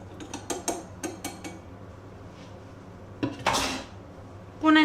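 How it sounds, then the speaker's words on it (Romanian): Milk mixture for cozonac dough stirred in a bowl, giving several quick clinking spoon taps near the start, then a brief scrape and a louder clatter toward the end, close and without talk. "Și amestecăm."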